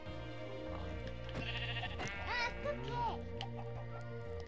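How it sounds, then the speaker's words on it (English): Sheep bleat in the video game Minecraft, a few wavering cries layered over steady background game music, with soft talking mixed in. "Bye, sheep."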